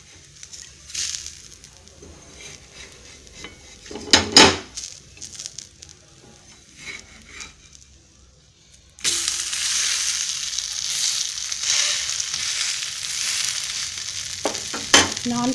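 A ragi dosa on a stone griddle gives a soft crackle, then scraping and clatter as it is flipped, then a louder, steady sizzle, close by.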